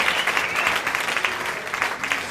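A roast audience claps in a room, with dense, lively applause from many hands close by, pulsing slightly as it carries on steadily without talk.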